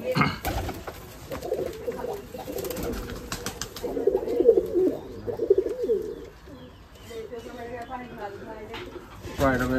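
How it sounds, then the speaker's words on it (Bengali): Pigeons coo softly in a loft in low, rolling murmurs, close by, with bursts of talking and some rustling noise around them. "অসাধারণ একটা কবুতর"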